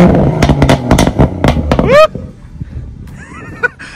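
A 360+ bhp BMW M140i fires off a quick run of loud, sharp pops and crackles from its exhaust, a rapid burst of cracks followed by a brief tailing squeal and a few quieter pops, with voices in the background.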